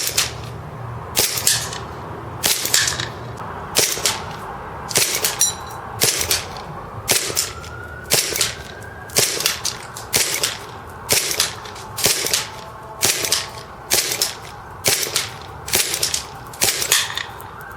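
WE Silver Sword Cutlass M9 airsoft pistol fired at a target 100 feet away outdoors: about fifteen sharp, loud, close cracks spaced roughly a second apart in an even rhythm, with no talking.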